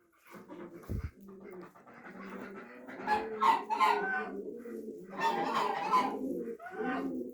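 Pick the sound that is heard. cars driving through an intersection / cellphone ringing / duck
duck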